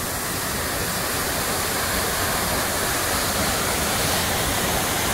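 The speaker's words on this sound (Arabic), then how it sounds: "هذه أقرب نقطة للوصول للشلال." Constant, dense roar of Trümmelbach Falls, a waterfall in Switzerland, loud and unbroken throughout with no voices.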